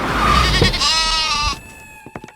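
A goat gives a loud, close, wavering bleat lasting about a second and a half, followed by a few soft clicks.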